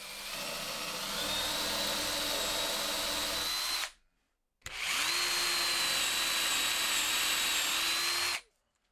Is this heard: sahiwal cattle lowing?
no